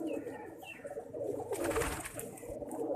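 Pet pigeons coo softly and repeatedly at close range amid a steady indoor background hum, with a brief brighter rustle midway.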